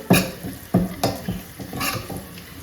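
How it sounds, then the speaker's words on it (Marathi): Coconut roasting in a pan, stirred in several distinct scraping strokes over a steady low sizzle, close up with no talking. "खोबरं पण मस्त असं रोस्ट करून घेते"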